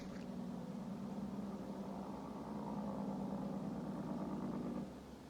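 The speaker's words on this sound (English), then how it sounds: "Jeez, those Jake brakes are loud." A truck's Jake brake drones as a low, steady engine rumble heard at a distance from a muddy hiking trail, holding even for several seconds before dropping off near the end.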